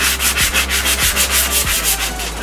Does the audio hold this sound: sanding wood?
yes